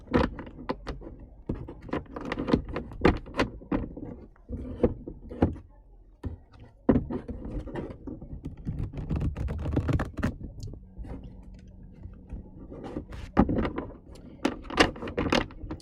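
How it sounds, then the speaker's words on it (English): Tarot cards being shuffled during a live reading, a run of soft, quick papery riffles and taps close by, with brief pauses and a few sharper flicks. "I'm just shuffling the cards for you now"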